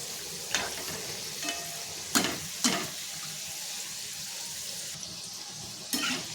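Modak dumplings frying in hot oil, a steady soft sizzle with a few sharper spatters and stirring clicks scattered through, close and fairly quiet, no talking.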